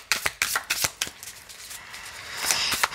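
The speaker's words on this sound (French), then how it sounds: "Je vais juste recouvrir cette carte." Playing cards handled on a table during a card game, a quick series of crisp flicks and slaps in the first second, then softer rustling and sliding, close and clear with no voices.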